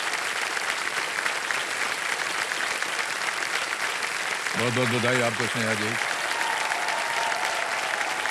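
Sustained studio audience applause on the KBC quiz show, dense loud clapping throughout, with a voice speaking over it briefly.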